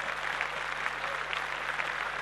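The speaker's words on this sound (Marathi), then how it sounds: "जोरदार टाळ्या जागर ग्रुप साठी आपण वाजवूयात" Steady, dense applause from an audience cheering a performing group at a Mangalagaur celebration, continuous and loud throughout with no talk over it.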